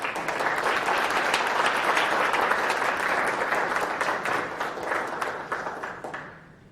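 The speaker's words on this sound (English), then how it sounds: "Why don't you thank the panel? Their job isn't done, but give them a round of applause." Sustained audience applause for a panel at a talk on urban food insecurity, dense even clapping that holds for several seconds before tapering off at the end.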